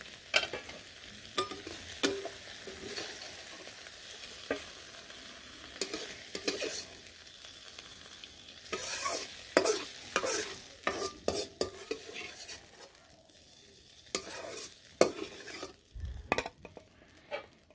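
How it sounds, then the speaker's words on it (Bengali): Potatoes fry in a pan while being stirred, with continuous sizzling broken by repeated scraping and clattering of a spatula against the pan. The cooking noise is close and carries on with no talk. "আলুগুলো প্রথমে একটু ভেজে নেব"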